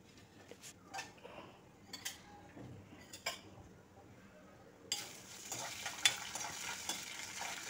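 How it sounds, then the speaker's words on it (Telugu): Green chilies and curry leaves fry in a pan, a faint crackle with sporadic spoon clinks against the metal, then a louder, denser sizzle takes over. "పచ్చిమిరపకాయలు, కరివేపాకు కూడా వేసి వేయించాలి"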